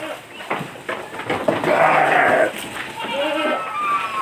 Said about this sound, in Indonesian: ini yang sebelah kiri domba, sebelah kanan kambing.